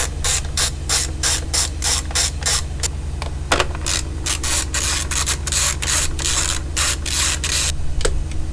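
A ratchet works on engine cover bolts during a spark plug replacement at 150,000 miles, with rapid, regular clicking bursts repeating throughout. The sound is close and fairly loud over a steady low hum, with no talk.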